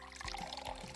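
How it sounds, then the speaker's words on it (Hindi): Water poured carefully into a yoga bottle in a classroom demonstration, a brief wet splashing pour with two small surges, close and alone without talk. "चलो अब इस योगा बोतल को भरें। ध्यान से पानी डालना होगा।"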